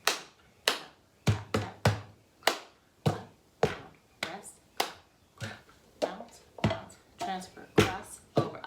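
A cup game rhythm of hands clapping and cups tapping on a tabletop, a quick pattern of sharp, close slaps and knocks that repeats steadily without talk.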